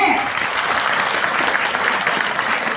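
An audience at a Pongal festival debate program breaks into steady, dense applause that continues throughout, a continuous crackle of clapping hands with no gaps.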